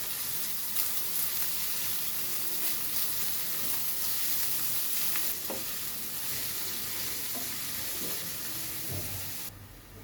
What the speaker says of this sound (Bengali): পেঁয়াজটা এবার আমি ব্রাউন কালার করে ভেজে নেব